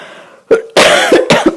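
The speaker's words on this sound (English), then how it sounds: "I'm going to cough." A close, loud burst of coughing: one short cough, then a harsh cluster of two or three more in quick succession.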